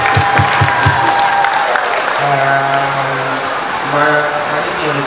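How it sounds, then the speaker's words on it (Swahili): An audience applauds at a launch event attended by the parliamentary speaker. The clapping is dense and continuous, with crowd noise and some tonal background sound mixed in. "Makofi kwangu tafadhali."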